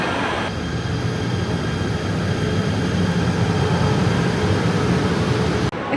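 A Kuala Lumpur metro train in motion heard from inside the carriage, a loud steady low rumble and rolling roar that holds for several seconds before cutting off abruptly.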